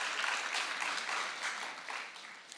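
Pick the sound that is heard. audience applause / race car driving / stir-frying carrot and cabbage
audience applause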